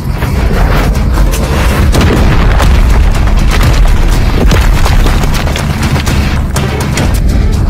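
A heavy booming crash roars as a fight ring splits apart during an anime battle between Saitama and Suiryu, a loud, dense rumble of impacts and debris that keeps going without a break.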